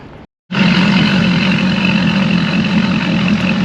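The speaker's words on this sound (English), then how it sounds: "That's sports exhaust." Engine of a 2021 Nimbus C9 motor boat roars to life after a brief silence, a loud, steady, close drone with a strong low throb through its sports exhaust setting, no talking over it.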